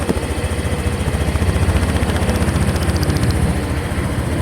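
Honda Click 125 scooter engine with its stock muffler runs steadily, a low, even, throbbing exhaust note held at close range without interruption.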